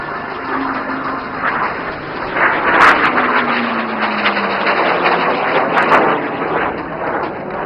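A military jet making a tight turn during the Aero India 2025 flying display at Yelahanka air force station, a loud continuous engine roar with a slowly shifting drone, heard across the airfield.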